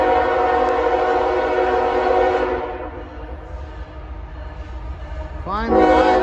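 A CSX freight train rolls past at the Folkston turnout, a loud, steady rumble of rail cars that eases midway, then a rising horn blast comes in near the end.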